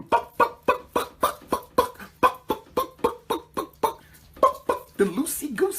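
A voice imitates chicken clucking with a steady run of about fifteen sharp, rhythmic "buck" syllables, close and loud, before breaking into other vocal sounds at the end.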